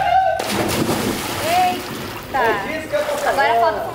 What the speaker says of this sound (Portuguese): Pula na piscina primeiro e depois você sobe lá e desce.